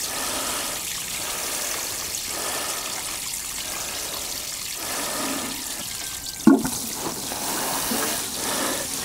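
Water pours steadily from a hose or can onto newly planted tomato plants in a greenhouse polytunnel, a continuous close trickling and splashing with a brief knock partway through.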